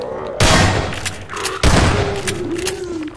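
Two sharp, loud blasts about a second apart from a grenade going off in a shooter game, each with a rough decaying tail, while a tonal game sound hums underneath.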